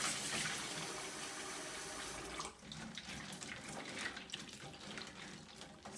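A kitchen tap runs steadily while udon noodles are cooled in cold water, a continuous hiss that shifts and splashes partway through as the stream hits something.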